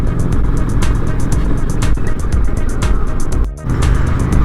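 A Honda Shadow 750 ACE motorcycle cruising down the road, its steady engine rumble blended with loud, continuous wind roar that briefly dips near the end.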